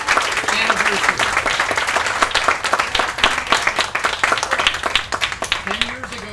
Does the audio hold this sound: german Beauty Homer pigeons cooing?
no